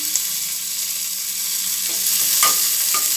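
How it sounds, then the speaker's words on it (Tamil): Curry leaves fry crisply in hot oil for ulundu kara chutney, a bright, continuous sizzling hiss with a few spoon scrapes and crackles near the end. "கருவேப்பிலையும் முறுமுறுன்னு கொஞ்சம் வறுத்துக்குருவோம்"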